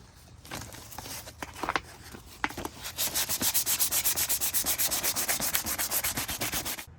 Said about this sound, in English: So I'm gonna sand this down, and along with the front fender, We're gonna make these silver again.